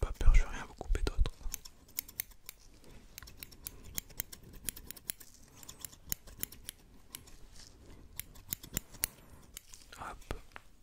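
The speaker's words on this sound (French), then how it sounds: "Je vais juste prendre la paire de ciseaux. Et je vais vous couper les fils du coup." Scissors cut stitches close up in a whispered French doctor roleplay, giving many crisp, sharp snips in an irregular rhythm, with soft whispering and rustling in the background.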